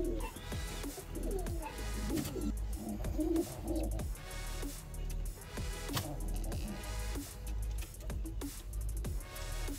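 Soft cooing and faint chirping from four-day-old baby pigeons in a nest box, with rustling and shuffling movement throughout, a small bird call repeating at irregular intervals.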